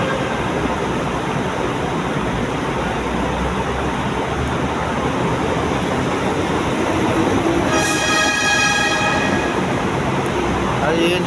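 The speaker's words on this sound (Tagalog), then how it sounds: "gumagana na yung train dito sa may PITX" A train runs at the PITX terminal with a steady, loud rumble of rolling wheels throughout, and a sustained horn-like tone cuts in briefly near the end.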